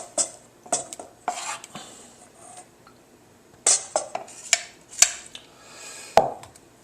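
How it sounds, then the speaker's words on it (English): Pancake batter being divided between two bowls in a kitchen, heard as scattered clinks and scrapes of a utensil against bowls with quiet gaps between them, close and alone. "take your batter and split it between 2 bowls"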